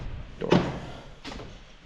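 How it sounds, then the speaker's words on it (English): A door swings and shuts twice in quick succession, a sharper knock followed by a softer thud, fairly faint and close in a quiet space on a rainy day. "Door."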